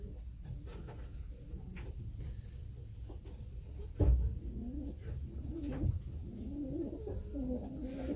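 A racing pigeon in its loft, a 2009 bird, giving soft low coos in a slow repeated rhythm, close and fairly quiet, with a faint knock partway through.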